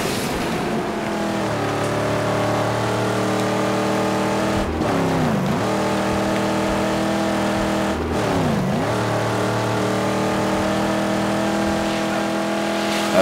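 A car in the Mad Max video game drives at a sustained engine drone, holding steady revs with two brief drops and pickups as it shifts, loud and continuous with no voices.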